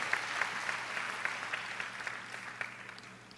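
A church congregation gives long, sustained applause, a dense patter of many hands at a steady level throughout.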